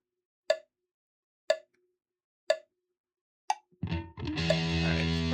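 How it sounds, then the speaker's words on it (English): Four evenly spaced hollow plopping metronome clicks, one per second and fairly quiet, then a couple of quicker clicks before sustained instrument playing begins during a music lesson. "that's the best we got on this metronome"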